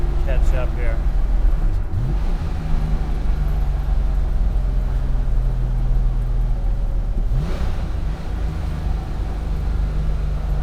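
A 1974 Porsche 911 engine revs hard at high RPM, heard as a loud, steady mechanical drone from inside the car with brief rising pitch sweeps around two and seven seconds.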